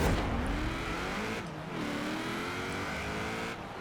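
An engine-swapped car in Forza Horizon 4 revs hard through gear changes. The rising engine tones break off in sharp dips at each shift, about three times, and the sound stays loud and close.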